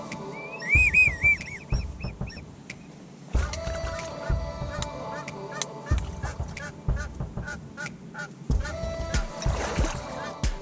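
Geese honk repeatedly at a goose hunt, a mix of near and more distant calls in irregular bursts, with splashing and movement noises and occasional low voices in the background.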